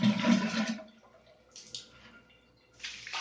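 Water gushes and splashes loudly while a dirty RO water purifier filter is rinsed, then drops to a quieter trickle before another burst of running water at the end.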